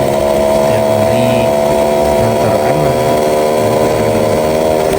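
A Yamaha Alfa motorcycle engine running while riding at night, a loud, constant buzzing drone with slight rises and falls in pitch, and a rider speaking briefly over it.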